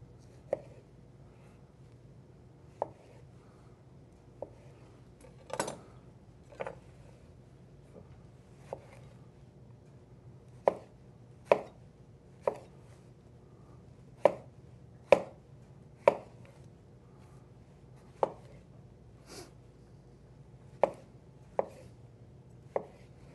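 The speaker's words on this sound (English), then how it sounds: "I'll just quarter them up, and if they're big, you might want to cut them down even smaller." Knife chopping vegetables on a cutting board for a farro summer salad, quartering and cutting them smaller: sharp, separate knocks at an irregular pace, a few at first and then quicker, nearby and distinct over a quiet background, with no talking.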